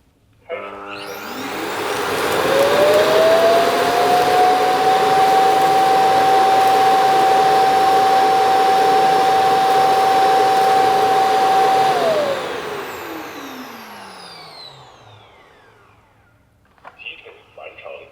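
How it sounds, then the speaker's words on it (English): Airbot A700 robot vacuum's self-cleaning dock emptying into its bin: a loud suction roar rises in pitch, holds a steady whine for about ten seconds, then winds down. "it will start to empty it into this bin, which is super loud"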